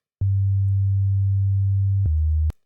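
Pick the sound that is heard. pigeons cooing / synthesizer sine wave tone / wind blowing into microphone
synthesizer sine wave tone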